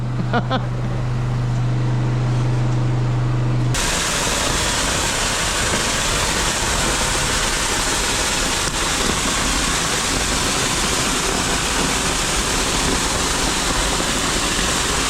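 A high-pressure water spray hits a stone barn foundation wall during a shotcrete repair job, starting abruptly after a few seconds and then hissing loudly and steadily without a break.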